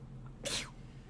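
A single short sneeze sounds once, fairly faint, in a quiet room with a low hum beneath it.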